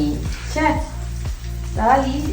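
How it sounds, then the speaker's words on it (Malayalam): Onions sauté in a pan for a home curry, giving a soft, steady sizzle close by, broken by repeated stirring scrapes at a regular pace, and no clear talk over it. "അങ്ങനെ ഉള്ളി വഴറ്റുകയാണ് ഗൈസ്."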